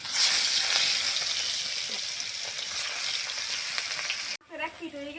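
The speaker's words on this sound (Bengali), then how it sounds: "এই তেলের মধ্যে আবার মাছ দিতেছি।" Rohu fish fries in hot oil, giving a steady loud sizzle and crackle for several seconds. It cuts off abruptly near the end, when a voice starts speaking.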